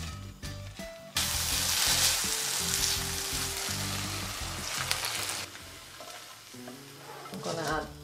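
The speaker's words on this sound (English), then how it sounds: "you can also saute some spinach in the mushroom marinade that is left over in the pan" Spinach sautéing in leftover mushroom marinade in a pan, a loud dense sizzle that bursts up suddenly and holds steady, with stirring clatter underneath before it eases off.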